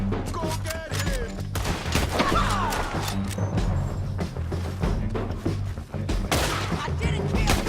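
Gunfire in a Red Dead Redemption 2 shootout, dense overlapping shots and crashes at a steady loud level throughout, with shouting voices mixed in.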